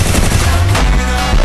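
Rapid automatic gunfire from the Free Fire battle-royale game, a loud continuous burst of shots with dense, rattling repeats filling the whole moment, no voices over it.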